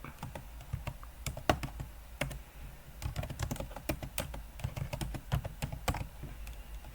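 Fast, irregular clicking of keys being typed on a computer keyboard, close and fairly quiet, with short pauses between bursts and no talking.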